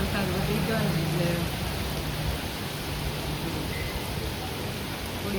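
Heavy rain pours down steadily in a residential area where water is collecting, making a dense, even hiss throughout, with faint voices and a few soft tonal sounds underneath.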